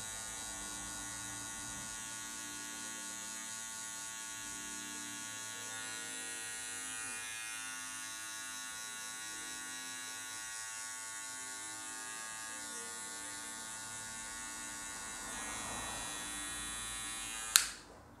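Electric hair clipper with an intermediate guard running steadily while fading a mohawk, a close, constant high buzzing hum that lasts throughout and ends with a sharp click as it switches off.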